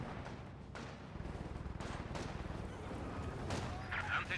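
Rapid machine-gun fire from an MG34 and a Maxim in Company of Heroes 2, a steady rattling stream of shots trading back and forth amid battle noise, with a voice talking over it.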